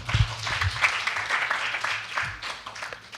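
At a 2022 results-report meeting for a 24-hour disability help-call service, an audience gives a steady wash of moderate applause, with a few voices mixed in.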